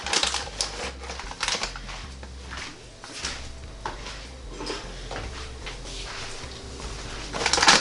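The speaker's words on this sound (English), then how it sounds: "I'm going to get my Phillips air fryer XXL open." A Philips Air Fryer XXL being opened in a kitchen, with scattered clicks, plastic knocks and rattles of the drawer and basket, louder at the start and end.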